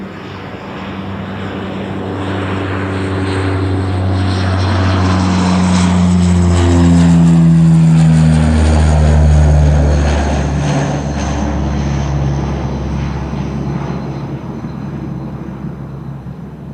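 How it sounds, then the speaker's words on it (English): A turboprop aircraft takes off from the Polderbaan runway 36L at Amsterdam Schiphol, its loud propeller drone swelling to a peak mid-clip and then slowly fading as it climbs away, with no talking. "Listen, turboprops, baby."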